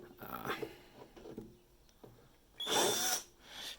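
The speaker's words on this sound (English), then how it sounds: "So I just take my screwdriver to help me out here." A screwdriver works on the screws of an old speaker, a few short close scraping and squeaking turns followed by a louder grinding burst near the end.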